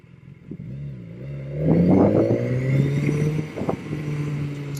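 A motorcycle ridden and then braked, its engine note rising and sweeping back down over a few seconds with wind rush, close and fairly loud.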